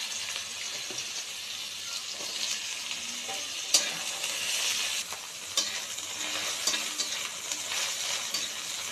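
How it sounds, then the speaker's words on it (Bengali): Bitter gourd fries for shukto in a pan of hot oil, with a steady loud sizzle and occasional stirring clicks, no voices. "শুক্তোর যেটা মেন উপকরণ মানে উচ্ছে, সেটাকে কিন্তু এবার আমি ভেজে নেব"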